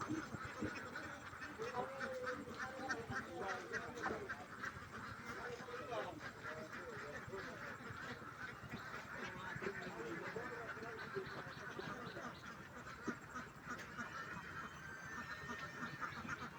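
A dense chorus of ducks quacking steadily in a village, many birds close together, with a constant outdoor murmur underneath.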